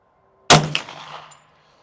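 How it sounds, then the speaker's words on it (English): One sharp, loud gunshot from a Hi-Point 10mm carbine firing reloaded 10mm rounds at an outdoor 50-yard target breaks a quiet background, with a second crack and a ringing tail dying away over about a second. "So let's shoot a 5-shot group at that middle target."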